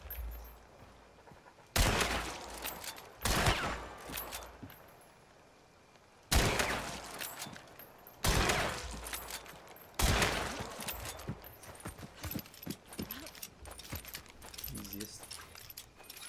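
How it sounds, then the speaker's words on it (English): Gunfire in the game Hunt Showdown: several sharp, loud bursts of shots with ringing tails, spaced irregularly, mixed with clattering game noise and some talk. "the easiest gun to shoot ever"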